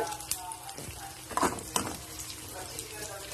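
Garlic, onions, sweet corn and carrots sizzling loudly in a hot pan, with scraping stirs and a couple of sharper utensil clacks against the pan over the steady frying hiss.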